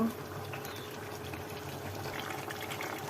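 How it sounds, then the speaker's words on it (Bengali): Chicken curry with potatoes simmers in a watery gravy in a pot, and a steady, close bubbling hiss continues without a break as the curry is stirred. "অনেক পানি, একটু নাড়াচাড়া করে দেব।"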